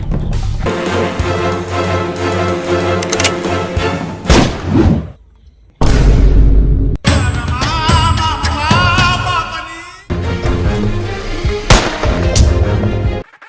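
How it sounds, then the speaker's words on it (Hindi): Rapid gunfire and heavy booming shots from a battle royale shooter video game, loud and dense with layered game sounds, broken by a brief near-silent gap before the firing resumes. "पड़ गई ठाकुर की गांड पे गोली"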